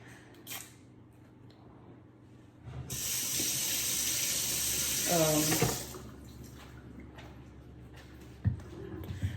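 A kitchen tap runs steadily for about three seconds as items are rinsed in a sink, with soft clinks and quiet household sounds before and after.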